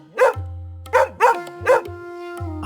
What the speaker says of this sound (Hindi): दूर कहीं कुत्तों के भौंकने की आवाज लगातार सुनाई दे रही थी।